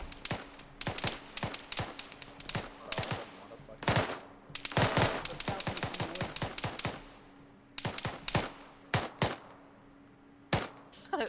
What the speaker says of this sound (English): shots coming from the south